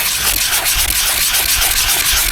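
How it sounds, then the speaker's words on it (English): A plastic gold pan's bottom being scuffed in circles, giving a steady, close, continuous rubbing and sanding rasp with faint rhythmic swells and no talk. "you're going to scuff up the plastic"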